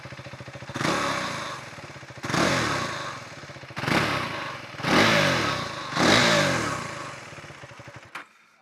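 A KTM 390 Adventure R motorcycle with a Norifumi Whoops aftermarket exhaust idles with a steady low rumble, broken by five throaty revs that swell and fade back, then the engine cuts off at the end.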